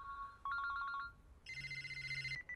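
A telephone rings in short electronic bursts, first a lower warbling tone and then a brighter, harder ring over a low hum, moderately loud and close with no talk.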